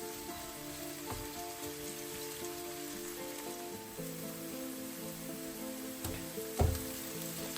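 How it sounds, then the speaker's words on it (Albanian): Onion and peppers frying in a pan, a steady close crackle and sizzle with a few stirring knocks and one sharper clatter near the end, no voices. "Pasi qepa ka filluar të skuqet paksa, do të hedhim perimet të gjitha me radhë."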